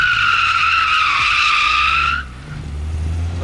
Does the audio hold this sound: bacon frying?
no